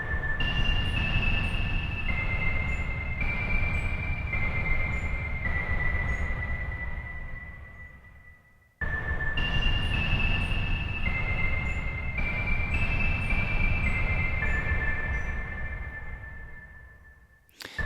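An atmospheric synth preset called Siren from the LA Atmos library plays a steady, droning pad of stacked sustained tones that step in pitch, with a faint siren-like wail behind it, heard twice in a row.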